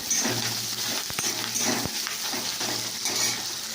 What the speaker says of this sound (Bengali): পেঁয়াজটাকে একটু ভাজতে হবে।